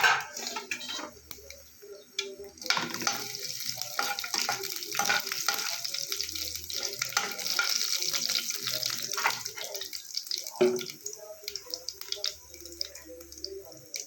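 A whole dried red chilli and cumin seeds fry in hot mustard oil, giving a steady crackling sizzle with scattered pops and light stirring, close and continuous.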